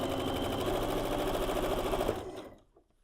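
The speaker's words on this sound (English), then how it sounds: "sew to that center seam, straighten out the other end." A sewing machine runs at a steady, fast stitching rhythm along a quilt block seam, close and continuous, then winds down to silence at the end.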